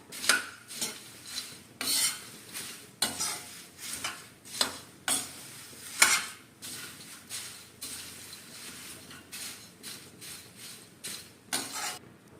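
Namkeen mix roasted on a low flame and stirred slowly in a pan, giving rhythmic, repeated scraping sweeps over a faint, soft sizzle, close up with no voices.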